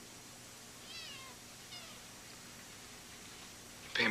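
A kitten gives a couple of faint, short meows over steady background hiss, with a brief louder rustle at the very end.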